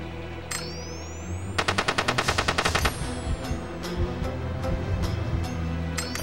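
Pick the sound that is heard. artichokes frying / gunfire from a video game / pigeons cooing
gunfire from a video game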